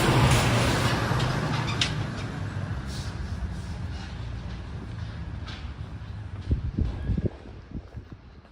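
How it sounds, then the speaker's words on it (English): A loud heavy truck rumbles past on a city street while walking toward Haight-Ashbury in San Francisco, its roar strongest at first and slowly fading, with sharper knocks and thumps near the end. "Loud truck warning."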